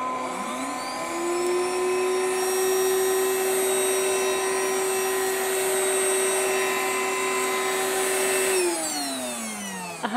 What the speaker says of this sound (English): I would like to hear this handheld vacuum cleaner sound to see whether it's loud or not